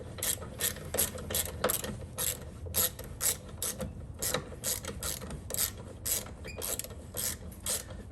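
A ratcheting wrench loosens bolts while a Saddlemen Road Sofa motorcycle seat is being installed, giving a rapid, steady run of close mechanical clicks that keeps going for several seconds with only brief pauses, and no talking.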